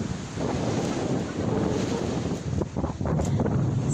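Sea waves washing onto the shore under strong wind buffeting the microphone, a continuous roaring rush with swelling surges, close and loud, with no voices.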